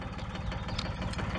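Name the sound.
old 1981 tractor engine running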